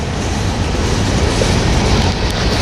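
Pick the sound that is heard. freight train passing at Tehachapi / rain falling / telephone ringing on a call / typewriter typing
freight train passing at Tehachapi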